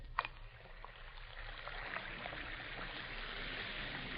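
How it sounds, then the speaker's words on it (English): Two Alka-Seltzer tablets fizz in a glass of water, a soft, continuous sparkling hiss with faint pops, heard close-up through an old radio broadcast. "we take 2 Alka-Seltzer tablets from the package and drop them into a glass of water"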